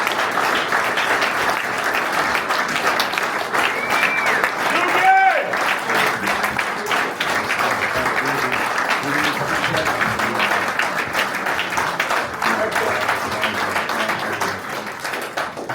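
A crowd at an election night event gives a standing ovation, with loud, continuous clapping holding steady for many seconds and a few voices and whoops mixed in.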